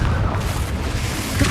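A Confringo spell blast from Hogwarts Legacy, a loud booming explosion with a rumbling low end lasting over a second amid dense spell combat, while a voice calls out nearby.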